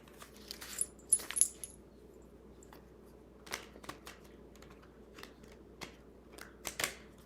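Soft, quick papery riffles and clicks of tarot cards being ruffle shuffled, a few bursts close by in a quiet room.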